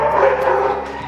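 Duke, a restless rescue dog at an animal shelter, lets out a loud, close bark-yip with a whiny edge, one brief burst filling the moment.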